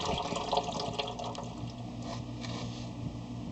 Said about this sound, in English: brought that hose out and around, and now it's draining